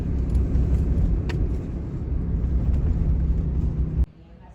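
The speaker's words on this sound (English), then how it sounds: "the tow truck's here" A tow truck rolls up outside, its engine a loud, steady low rumble close by that cuts off abruptly near the end.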